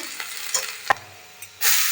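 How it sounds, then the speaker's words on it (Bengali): Chopped garlic drops into hot oil while making whole-wheat momos, giving a short stir-clatter and soft crackle before a sudden, loud steady sizzle takes over near the end. "দিয়ে দিচ্ছি রসুন কুচি"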